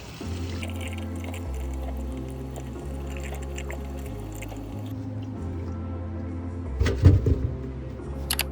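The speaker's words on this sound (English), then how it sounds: "I'll do a light wash to get the dirt off." Water running steadily from a tap while sweet potatoes are given a light wash to remove dirt, a continuous close hiss and splash with a brief burst of rubbing and splashing near the end.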